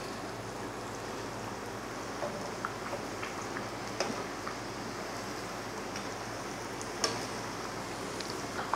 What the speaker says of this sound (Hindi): तो अब इसको डालते जाएंगे और फ्राई करते जाएंगे बिस्मिल्ला करके